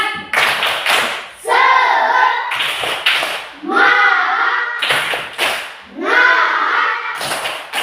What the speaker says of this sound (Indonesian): Kita beri tepuk semangat dulu untuk kelompok 2.